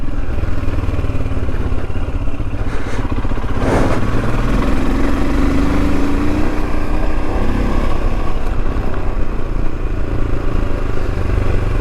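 Royal Enfield Himalayan motorcycle ridden along Cornish country lanes near Bodmin Moor, its engine a steady, loud droning rumble throughout with wind buffeting and a rising pitch as it accelerates.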